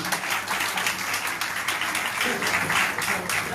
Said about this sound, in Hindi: एक बार जोरदार तालियां बजाने सभी